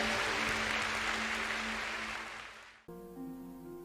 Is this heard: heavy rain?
no